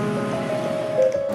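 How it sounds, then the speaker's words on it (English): Heavy rain at night in Italy, a steady dense wash of falling water with a faint tonal hum running through it and no pauses. "Italy is raining heavily tonight."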